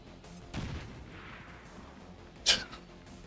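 An explosive blast in the video game XCOM 2, a muffled boom early on and then a sharp, loud burst near the end, heard alone without talk.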